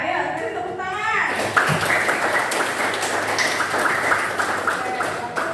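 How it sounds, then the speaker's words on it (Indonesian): A classroom audience breaks into clapping after a teacher's voice at the start, the applause continuing steadily with some overlapping voices. "ayo beri tepuk tangan"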